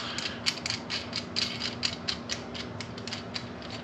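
A metal nut is turned back onto a threaded rod, giving quick, faint clicking and ratcheting ticks in an irregular rhythm, close by, over a steady low hum with no talking.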